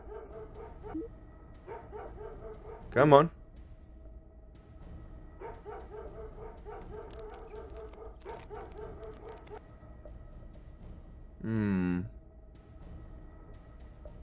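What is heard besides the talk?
dog barking and whimpering in the video game Hole Adventures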